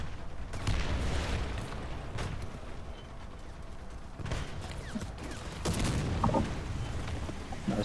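Artillery fire in War Thunder's realistic battles, near a BM-8-24 rocket launcher, comes as four or five separate booms spread a couple of seconds apart, fairly soft and distant over a low background rumble.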